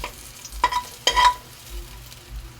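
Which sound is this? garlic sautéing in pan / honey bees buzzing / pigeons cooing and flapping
garlic sautéing in pan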